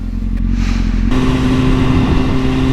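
A motorcycle engine drones loudly and steadily up close, with a brief shift in tone and a rougher, rumbling note after the first second.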